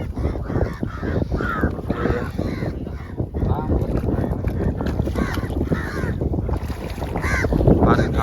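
Crows caw repeatedly in a noisy seaside scene with wind and water sounds, while people talk nearby as fish are washed in seawater.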